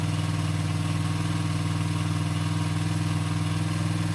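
A Honda XR80 motorcycle with a freshly rebuilt engine and a China PZ20 carburetor idles steadily with the choke off, a loud, even low chug held close to the microphone with no talk.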